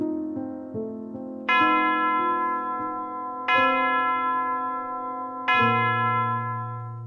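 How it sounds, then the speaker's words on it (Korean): A church-style bell tolls for midnight, three resonant strikes about two seconds apart, each ringing out and decaying slowly over a soft low background of tones. "어느덧 12시 종이 울렸다"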